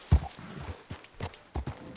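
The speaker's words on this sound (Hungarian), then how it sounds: "Elmászunk, remélem fel tud menni a ló." A horse's hooves clip-clop on the ground in Red Dead Redemption 2, a few distinct, fairly close strikes in an uneven walking rhythm.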